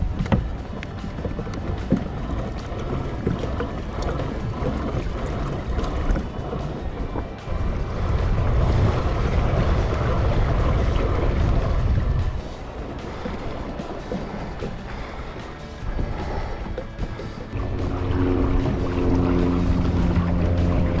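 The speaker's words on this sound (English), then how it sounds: "trying to paddle our way back in" A kayak paddles along a river, with rhythmic water splashes and dripping strokes, close by, over steady outdoor noise and wind.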